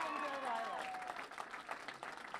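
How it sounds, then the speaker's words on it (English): An audience claps at a Monroe County Republican political speech event in 2014. A voice trails off at first, then a quiet, somewhat distant round of crowd applause builds with scattered hand claps. "Let's give him a round of applause for his leadership."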